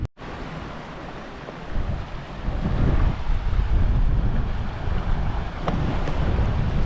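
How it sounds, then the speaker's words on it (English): A river rushes through the Scottish Highlands in Glen Etive below Ben Nevis, heard as a steady, broad outdoor roar with wind buffeting the microphone. It grows louder after the first couple of seconds and stays constant with no talking. "Beautiful river in here, perfect spot for a swim."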